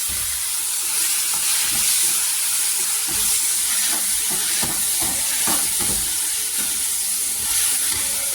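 Loud, constant sizzling and hissing of chopped tomatoes frying in a hot pan, with faint stirring clatter underneath, no voices.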